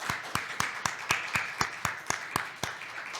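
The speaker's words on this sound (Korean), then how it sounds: "여러분 뜨겁게 한번 환영의 박수를 해주시죠." A church congregation at a Christmas service claps in welcome, a sparse, steady run of about a dozen distinct claps at an even rhythm, moderately faint and with no talking over it.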